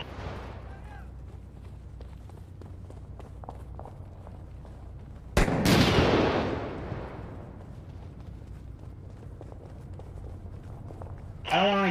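Action in the video game Six Days in Fallujah: faint footsteps and movement inside a building, then a loud single gunshot whose roar fades slowly, with another sharp shot at the end.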